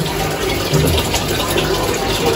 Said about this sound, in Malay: saya nak onkan dia punya pump. Pump dia akan running lah.